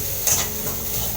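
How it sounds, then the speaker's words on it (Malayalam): Grated coconut frying in hot oil in a pan at home, a steady sizzle with stirring and scraping against the pan, close and continuous, without talk. "തേങ്ങ വറുക്കാൻ ചട്ടിയിൽ എണ്ണ ചൂടായിട്ടുണ്ട്. നമുക്ക് തേങ്ങയിട്ട് വറുത്തെടുക്കാം"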